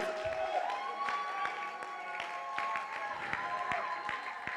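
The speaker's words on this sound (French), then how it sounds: "On applaudit, mesdames et messieurs." Guests at a wedding reception applaud together, a steady close-packed clapping from a crowd, with festive music tones and voices mixing in underneath.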